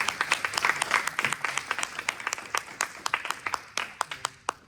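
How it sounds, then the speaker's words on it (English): Audience applause at the close of a business and finance talk, a crowd of separate claps in quick irregular bursts, fairly close and loud, thinning toward the end. "One more round of applause, please."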